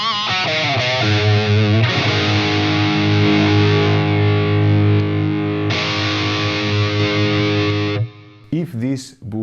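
Electric guitar played through overdrive and boost pedals, thick distorted sustained chords and notes with a jump in level partway, loud and close, ending with a brief voice.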